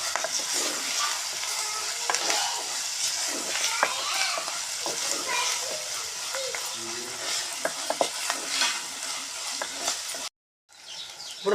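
Chopped fenugreek leaves frying in a pan for a mutton curry, with a continuous sizzle and repeated scraping stirs close by, ending in a brief silence.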